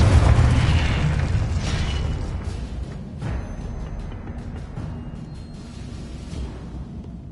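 A Confringo blasting spell explodes in the Hogwarts Legacy video game with a deep, loud boom that rolls into a long fading rumble and crackling debris, no speech over it.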